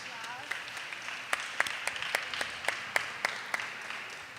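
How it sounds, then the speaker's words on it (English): At a third-grade academic quiz bowl, a small group gives light, sparse applause: a handful of distinct, fairly quiet claps in an uneven rhythm over soft room noise. "Round of applause."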